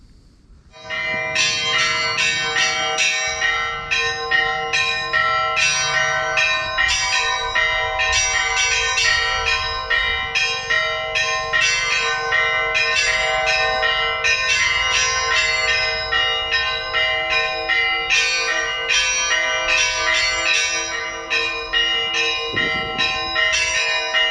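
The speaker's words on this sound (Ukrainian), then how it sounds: "Послухайте дзвін храму." Church bells ring continuously in a dense, layered peal, several bells overlapping with steady rhythm and no voices.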